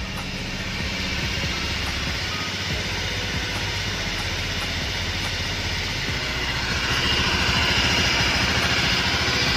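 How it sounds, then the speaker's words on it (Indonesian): Engine of a three-year-old 2017 Honda Beat scooter, with only one oil change and a rumbling problem, running steadily with a dense, constant roar that swells slightly toward the end. "Kita tes suara dari motor 3 tahun baru ganti oli 1 kali."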